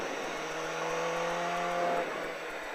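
A car overtakes on a race track during a track day session, a loud, close, sustained engine drone that holds steady pitch and then drops away near the end.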